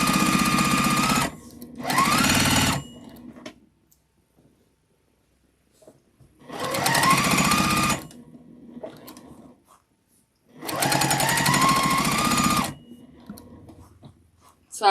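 A sewing machine stitches a quilt-as-you-go table runner made from scraps, running in three loud close bursts of rapid stitching separated by quiet pauses with faint handling.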